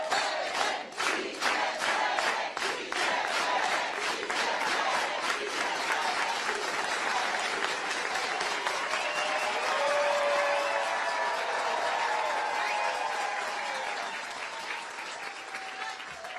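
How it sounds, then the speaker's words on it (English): A San Francisco political rally crowd breaks into rhythmic, organized hand clapping, distinct unison beats early on that dissolve into continuous applause and cheering, heard from a distance and gradually fading near the end. "let's all do it with an organized hand clap"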